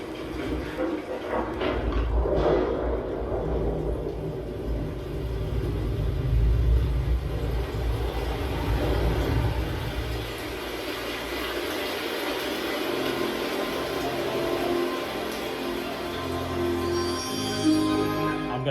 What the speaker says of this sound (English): get this thunder, see if you can really pick up on that.